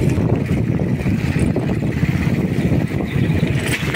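A habal-habal motorcycle taxi bounces along a rough road, its engine a steady, dense low rumble mixed with wind buffeting, continuous and close for the whole stretch with no voices.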